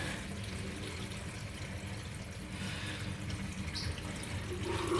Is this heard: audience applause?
no